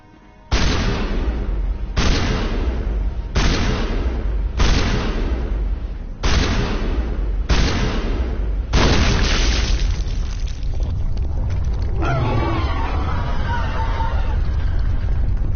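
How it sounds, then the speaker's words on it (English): Shotgun fire in Mass Effect, seven heavy booming blasts spaced about a second and a half apart, each loud with a short decaying tail, followed by a few seconds of rumbling combat noise. "Try the shotgun."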